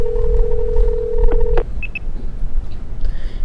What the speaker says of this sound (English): I find it on my phone and give her a call.